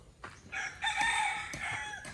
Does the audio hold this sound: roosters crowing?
yes